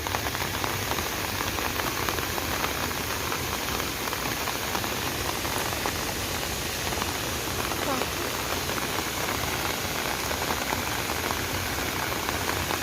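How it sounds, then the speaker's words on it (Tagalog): Heavy rain pours down on Yiu Tung Street during a landslide, a dense, constant hiss of drops hitting surfaces, loud and unbroken throughout. "Malakas yung ulan"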